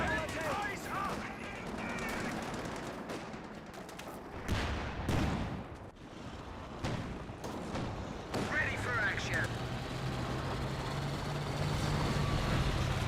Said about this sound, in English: the snipers start picking away those units one at a time